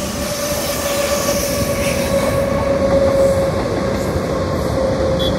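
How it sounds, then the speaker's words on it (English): A train rumbles past close by in Jaipur, India, a steady loud roar with a faint metallic squeal running through it, no voices. "Here's another train right away."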